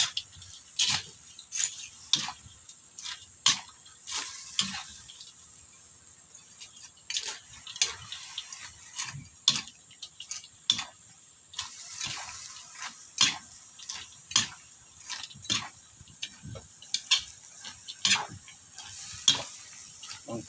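A utensil stirs pansit canton noodles in a pan, making a steady series of light clicking scrapes and taps at an uneven rhythm, close and fairly quiet.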